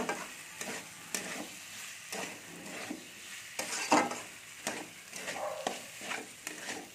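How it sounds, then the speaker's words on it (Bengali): Potatoes go into a tomato masala on the stove and are stirred steadily, a spoon scraping the pan in short repeated strokes over a continuous low sizzle of frying, with no voices. "এর মধ্যে আমি আলুগুলো দিয়ে দিচ্ছি সব।"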